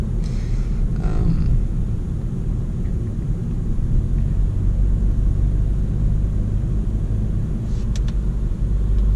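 Steady low engine and road rumble from inside a 2018 Volkswagen Golf GTI MK7.5 with DSG gearbox cruising through city streets, constant and close, with a few faint clicks near the end.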